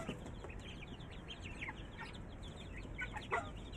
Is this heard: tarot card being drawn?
no